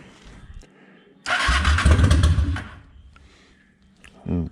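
A Honda 750 Ace Deluxe motorcycle engine, choke pulled, cranks and catches in one loud, close burst lasting about a second before dropping away, then a brief second crank at the end; a voice speaks quietly at the start.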